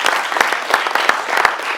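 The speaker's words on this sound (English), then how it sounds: "That deserves a round of applause." A small group at a youth gathering gives a brief round of applause, quick, fairly loud hand claps with no voices.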